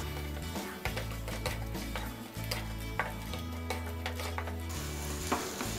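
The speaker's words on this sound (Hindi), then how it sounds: "अब इसे अच्छे से चलाते हुए पका लेंगे और लो फ्लेम पे पकाएंगे।" Ground red chili paste sizzles and fries steadily in a pan over a low flame while being stirred for a Punjabi dum aloo, with scraping spoon and pot clinks over a continuous close hiss and no talking.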